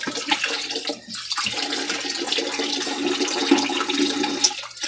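Water rushes steadily through a DIY plastic bottle pressure booster in a household plumbing setup, a continuous hissing flow with a brief dip near the start.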